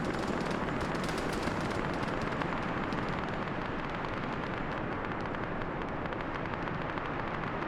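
A garrison opens up on a helicopter with sustained small-arms fire in a multiplayer military game, producing a dense, continuous roar of overlapping shots that fills the whole stretch at steady loudness.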